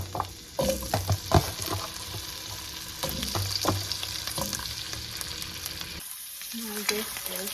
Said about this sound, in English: Just cooking this like potatoes first.